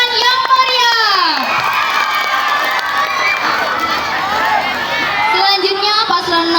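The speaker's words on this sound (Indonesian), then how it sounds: "Tepuk tangan yang meriah." An audience at a student council chair and vice-chair debate breaks into loud, sustained cheering and shouting with clapping, a dense close crowd roar that holds steady throughout.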